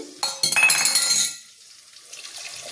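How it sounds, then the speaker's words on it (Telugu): Water splashes and pours from a glass into leftover masala with glassy clinks for about a second, then fades into a soft, quieter trickle. "దీంట్లో కొంచెం వాటర్ పోసి, ఒక గ్లాస్ వాటర్ పోసి"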